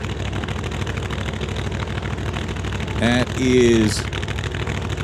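A loud supercharged drag car with a big blower sticking out of its hood rumbles at a drag strip test-and-tune session, a steady deep engine drone with a brief mechanical whine and a short spoken remark partway through.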